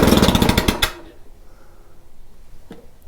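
A Honda EM650 portable generator engine fires in a loud, rapid chugging burst for about a second, then cuts out abruptly, leaving near silence with a faint knock afterward.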